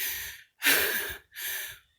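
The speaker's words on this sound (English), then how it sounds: "you're getting heavy breathing because, hang on, we just came from way down there" After a climb up Chamcook Mountain, someone breathes heavily close to the microphone: three loud, long, rasping exhales separated by short pauses, with no talking.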